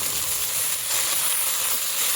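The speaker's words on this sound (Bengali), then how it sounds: "শাক ভাজি করতেছি, তো শাক ভাজি করার জন্য এখানে পেঁয়াজ রসুন কাঁচামরিচ দিয়েছি।" Potato greens frying with onion, garlic and green chilli, a steady hissing sizzle close up that lasts the whole short moment, with no speech.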